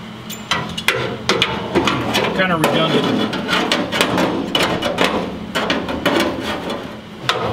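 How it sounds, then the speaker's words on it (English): Repeated sharp metallic hammer-on-dolly strikes while shaping sheet-metal torque box and floor transition panels on a 1970 Ford Mustang, irregular close taps under and between talking. "We've got a hammer and a dolly here."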